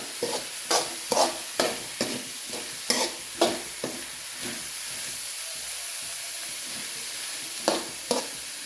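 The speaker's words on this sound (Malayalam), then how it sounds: "നന്നായി ഇളക്കി കൊടുക്കാം." Food frying in a pan is stirred with repeated spoon scrapes, bunched in quick bursts in the first half and again near the end, over a steady hiss and sizzle in a quiet kitchen.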